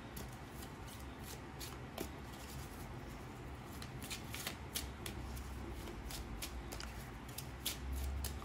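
A Lenormand (Gypsy) card deck being shuffled, a steady run of crisp riffling flicks with sharper snaps at irregular intervals, close and fairly quiet with no talking.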